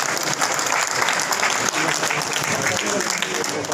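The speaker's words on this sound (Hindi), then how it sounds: "जोरदार ताली।" A large crowd gives loud, sustained applause at the opening of a Punjabi dharamshala with Haryana's chief minister present; the dense clapping continues throughout, with a voice talking over it.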